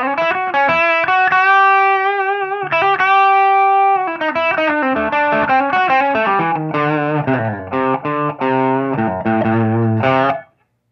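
A 1978 Gibson ES-335 TD electric guitar played through its bridge pickup with a slightly dirty, distorted tone, ringing chords and a descending melodic run, loud and close, ending abruptly.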